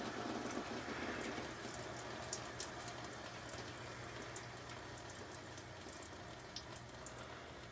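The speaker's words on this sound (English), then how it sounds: "you can see all that water that the air pressure was holding in, just draining out of there." Water drains steadily out of an air conditioner after the unit is switched off, a continuous trickling and splashing that stays fairly faint and even throughout, with no talk over it.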